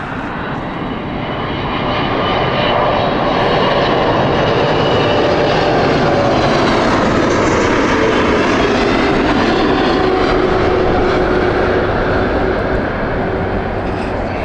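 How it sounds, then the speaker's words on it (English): An American Airlines Boeing 777 lands at Heathrow, its jet engines swelling into a loud, sustained roar with a slowly falling whine as it passes close and touches down. "there is American 777"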